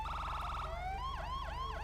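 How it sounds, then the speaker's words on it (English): In GTA 5, a Lexus GS350 police car's siren sounds close and loud, shifting from a rapid warbling tone into repeated swooping yelps over a low engine drone. "also seems like a different siren, because I don't recognise that at all, unless this is based off the FBI cars"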